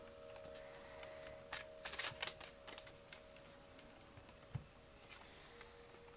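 Soft papery tarot cards shuffled in several quick bursts of riffling and patter, fairly quiet against a faint steady hum.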